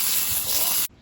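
Butter sizzles in a pan on a camping stove during motorcycle camping, a loud, close, steady hiss that cuts off abruptly near the end.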